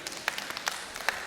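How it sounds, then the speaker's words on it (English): Scattered applause from a church congregation during a sermon, a few sparse claps rising and fading over a moment, moderately distant and fairly quiet with no talk over it. "that's what gets the clap?"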